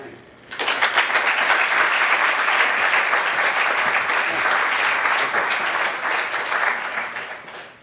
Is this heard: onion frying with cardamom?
no